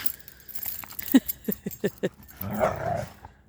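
Dogs playing in the snow give a run of short, sharp yips and barks close by, followed by a rougher burst of snuffling or growling scuffle noise.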